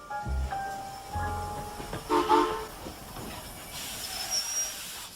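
A train releases hissing steam, with brief whistle tones and mechanical clanks around it, the hiss swelling loudly near the end.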